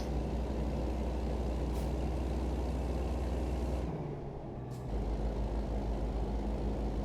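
A truck rolls along with a heavy, steady engine rumble close by, broken by a brief drop around the midpoint before the drone resumes, with faint hiss-like bursts suggesting air brakes.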